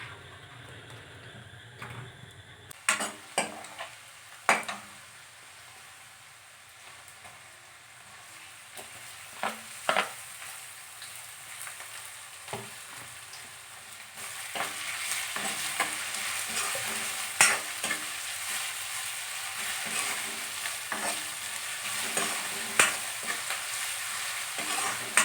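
Onion, chili and garlic frying in a small amount of oil, with a spoon stirring and scraping the pan in irregular knocks over a steady sizzle that grows louder midway.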